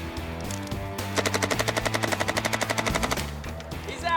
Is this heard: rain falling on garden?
no